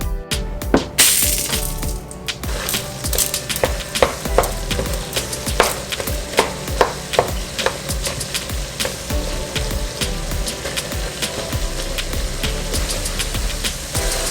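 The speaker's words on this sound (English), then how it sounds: "now I can start cooking this ground beef" Ground beef cooks in a pan for lasagna, with irregular scraping, tapping and clinking as it is stirred and broken up, over a continuous background sizzle.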